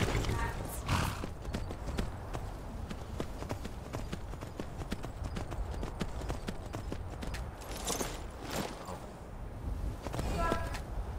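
A horse's hooves clip-clop in a steady walking rhythm through the whole stretch in the game Skyrim, fairly faint and even, with a few louder clattering accents and brief snorts mixed in.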